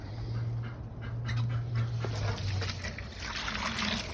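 A garden hose sprays water to rinse dirt off near a duck enclosure, producing a steady, fairly loud hiss and splatter that continues throughout.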